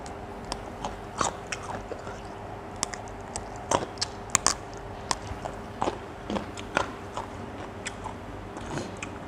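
Crunchy fresh bamboo shoot cooked with pork in a pot is chewed close up, giving a series of irregular crisp bites and crunches over a quiet background hum.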